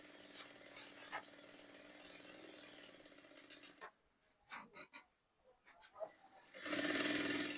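Sewing machine stitching a shirt collar, a steady close mechanical whir running for several seconds, pausing briefly with a few short bursts, then starting up again louder.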